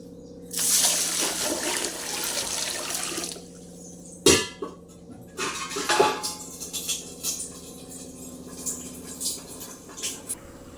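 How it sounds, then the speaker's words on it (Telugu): Water pours steadily into a pot for cooking soaked rice for a few seconds, then a metal clank and scattered clinks of a vessel being handled follow. "ఇప్పుడు అన్నానికి సరిపడా నీళ్ళు తీసుకున్నాం."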